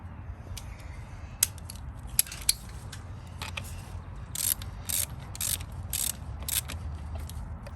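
Ratchet loosening the battery terminals on a Honda Civic, quick near clicking bursts and metallic ticks over a quiet low hum, no voices.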